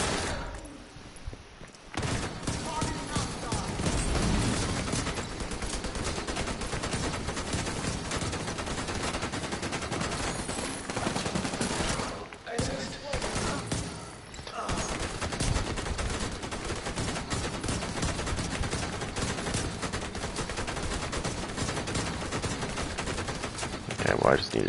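Gunfire in The Division 2 on PS5: dense, loud automatic bursts and repeated shots rattle almost nonstop with brief pauses, while a player talks over the fighting.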